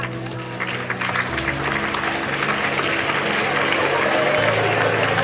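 Parents applaud at a graduation ceremony: a dense, steady wash of many hands clapping that grows slightly fuller toward the end, with a faint crowd murmur underneath.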